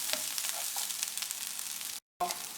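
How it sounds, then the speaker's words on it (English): Ginger and garlic sizzle steadily in a tablespoon of hot oil in a pan, a continuous close crackle with small spits, cut by a brief gap near the end. "add about 1 tablespoon of oil, ginger and garlic"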